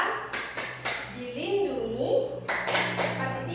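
Children clap in rhythm while chanting a call-and-response about children's rights in a classroom, sharp hand claps punctuating the voices. An adult's voice leads at times.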